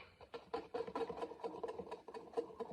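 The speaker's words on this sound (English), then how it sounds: "Honey. Flour. And baking soda. Whisk." Batter of honey, flour and baking soda is whisked by hand in a bowl, giving a steady run of quick, close scraping and clicking strokes at a low level, with no talking.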